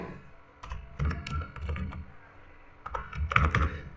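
Typing on a computer keyboard while entering text into an MS Word document, with bursts of rapid key clicks separated by short pauses, close and moderately loud, no voices.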